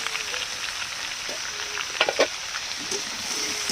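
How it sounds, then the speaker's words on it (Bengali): Jackfruit and potato frying together with salt and turmeric in a pan, a steady close sizzle with a few brief scraping and stirring knocks near the middle. "এবার এটাকে একটু ভালো করে ভেজে নেব"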